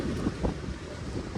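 Wind blows outdoors at a sunset spot, buffeting the microphone with low, rumbling gusts that swell and fade over a short span, fairly quiet overall.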